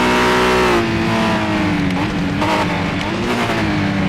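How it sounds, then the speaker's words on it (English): A loud, raspy touring car engine in a racing video game drones steadily at high revs, with gear shifts and slight pitch swings throughout. "Sounds like the touring car onboard footage that we used to get back in the day."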